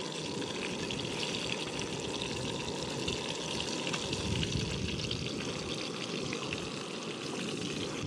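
Trout cooking fast in a pan over a camp stove gives a steady, loud frying sizzle with a hissing, water-like texture and no pauses, in windy mountain air.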